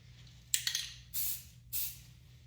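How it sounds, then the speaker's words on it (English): A spray paint can held upside down to clear its nozzle lets out three short hissing bursts, the first sputtering and uneven, the next two steadier, close and isolated against a faint background hum. "Shooting this upside down briefly to get the paint out of the nozzle"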